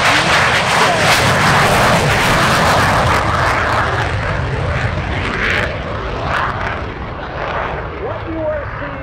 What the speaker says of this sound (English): here is the one that started it all, the F-100 Super Sabre